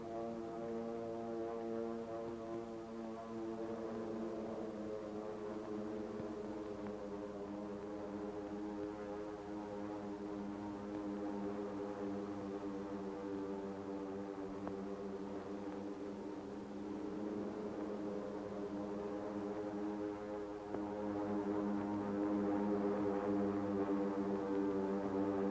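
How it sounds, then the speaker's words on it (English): Propeller aircraft approaching during the Pearl Harbor attack produce a continuous low droning hum that holds steady for the whole stretch and grows slightly louder near the end, with no talk over it. "the drone of planes was faintly heard"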